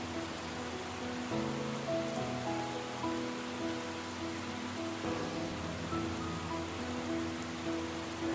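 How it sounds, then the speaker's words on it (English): Heavy rain pours down outdoors on the day of a cancelled parade, a steady, dense hiss of drops hitting surfaces that stays loud and even throughout with no voices. "As you can see, it's pouring down."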